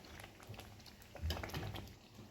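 Pav bhaji mixture, salted and stirred, bubbles over a high gas flame with a close, continuous soft boiling and popping texture and no voices.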